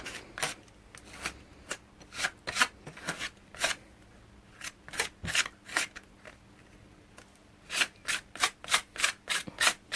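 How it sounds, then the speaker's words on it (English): Excess luscious craft powder is scraped across a starburst stencil, producing a quick series of sharp, close scraping strokes in uneven bursts with brief pauses between them. "And just scrape off the excess"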